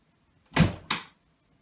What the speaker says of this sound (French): c'est ma porte qui vient de claquer